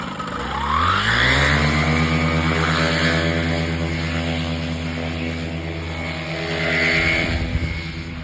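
A paramotor engine runs up and holds at full power, its propeller drone rising steeply, staying loud and steady, then swelling again near the end.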